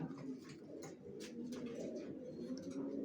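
Racer pigeons of the Johnson line coo softly and steadily at close range, a low continuous murmur with no talk.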